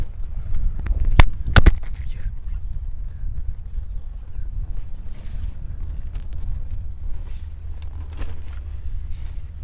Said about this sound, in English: we just had a gust of wind now